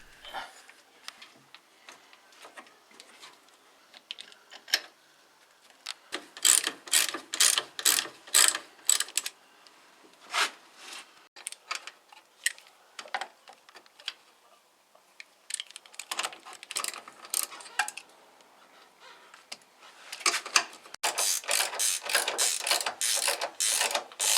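A ratchet tightens the bolts holding the steering gear to the crossmember of a Porsche 944 S2. Bursts of rapid clicking come in irregular runs, separated by short pauses, close and fairly loud, with no talking.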